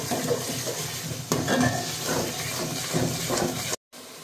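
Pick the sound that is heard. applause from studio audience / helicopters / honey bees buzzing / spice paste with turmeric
spice paste with turmeric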